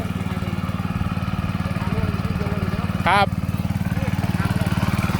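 A mini walk-behind tractor engine chugs steadily at close range while ploughing a field, a continuous rapid putter under a man's brief spoken word.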